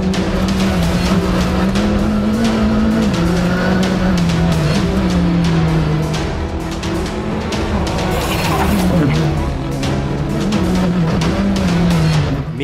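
A Skoda Fabia rally car tears through a Tour de Corse stage with a loud, continuous engine roar. The revs climb and fall through rapid gear changes, with tyre noise layered on top, and the car stays close and loud throughout.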